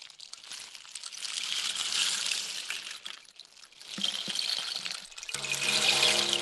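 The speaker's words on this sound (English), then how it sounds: "the very percussive and interesting sound of the raingourd there is going in" A rain gourd percussion instrument hisses and trickles in swelling waves, like falling water, with a faint ringing tone entering near the end.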